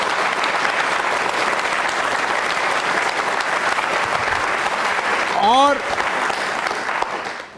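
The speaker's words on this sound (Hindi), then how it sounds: "बजाइए, जोरदार तालियां।" Loud, sustained applause from a lively crowd of students honoring guests at a televised devotional quiz program, dense steady clapping throughout with a brief whistle rising near the end and a voice barely audible under it.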